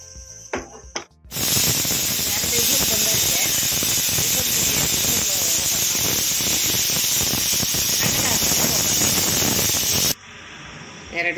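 A pressure cooker of vegetable pulao vents steam in a loud, steady, close hiss with a thin high whistle tone. It starts abruptly, holds for about nine seconds, then cuts off sharply.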